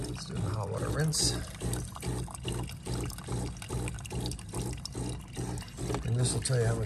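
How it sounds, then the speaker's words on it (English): Hot water rinse running through a Fisher & Paykel espresso maker, a steady pouring and splashing stream that continues throughout, with a person talking over it. "So here's the hot water rinse, so that's running."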